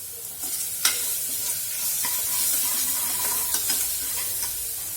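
Steady sizzling of hot oil in a tempering fills the clip while a spoon stirs in a paste and occasionally taps the pan, close up, without any talking.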